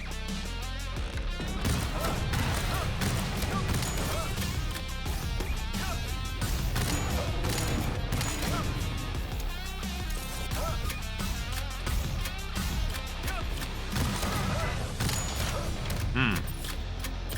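Rocket launcher fire and explosions in the rhythm shooter BPM: Bullets Per Minute, a dense, continuous barrage of booms and crashes over a pounding music track, loud throughout with no speech.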